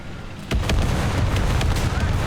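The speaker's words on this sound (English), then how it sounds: "I got killed by that artillery" An artillery shell explodes in War Thunder near an HSTV-L tank: a sudden loud boom is followed by a sustained heavy rumbling roar that fills the rest of the moment, with a voice faintly underneath.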